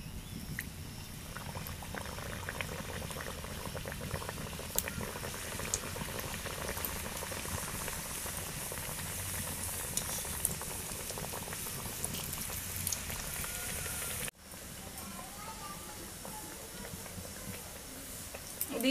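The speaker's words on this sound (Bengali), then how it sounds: "এদিকে খাঁচাগুলো ভাজা হচ্ছে" Khaja pastries fry in hot oil, giving a dense, steady crackling sizzle that runs close and loud, dropping suddenly near the end before the bubbling resumes more sparsely.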